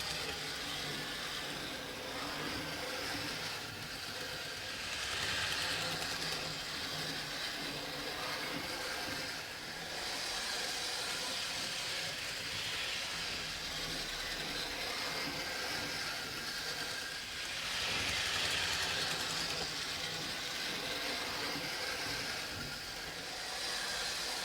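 A model railway DMU trundles along the track with a steady rolling rumble and hiss, swelling slightly louder at moments as it passes closer, running alone without talk.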